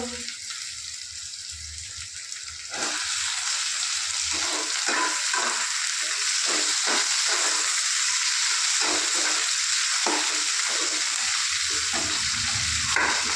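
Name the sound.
onion and tomato frying and being stirred in a pan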